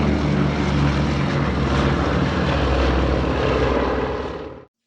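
Multiple piston engines and propellers of a B-17 bomber drone in a loud, continuous low roar close by, steady throughout before cutting off abruptly at the end.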